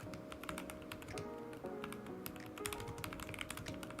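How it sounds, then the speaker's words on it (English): Rapid, steady keystrokes on a computer keyboard during a typing test, a dense run of close, crisp clicks and taps with a few louder strikes, continuing throughout. "So I'm gonna hit up one more typing test."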